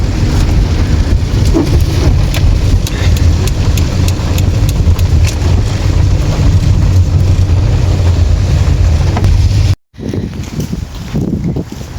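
Steady heavy rain at an outdoor market in Odesa, with a continuous hiss and low rumble, loud and close, briefly cutting out near the end before resuming.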